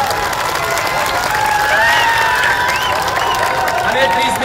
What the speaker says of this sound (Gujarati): એક વાર જોરદાર તાળીઓથી અમને વધાવો